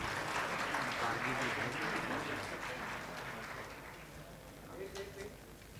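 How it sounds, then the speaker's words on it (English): Applause from the audience at a corporate panel on IT and analytics, a dense steady patter of many hands that fades slightly toward the end, with voices murmuring underneath. "Huge round of applause, please."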